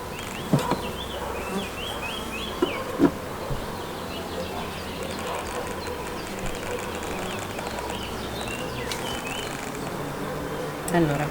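Honeybees drone steadily in a top-bar hive fitted with a syrup feeder, a dense continuous buzz close by, broken by a few sharp clicks and knocks.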